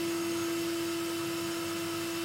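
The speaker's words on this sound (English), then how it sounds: "and then just stick them in the hoover" A Hoover vacuum cleaner runs steadily, sucking up debris while cleaning a Scan wood barrel stove, a loud continuous motor whine with a strong sustained hum and airy rush throughout, no voices.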